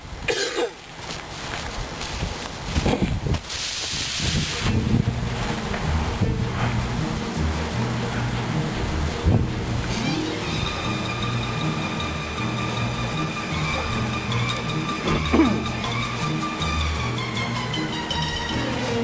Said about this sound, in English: It's so windy, you can't light the lighter.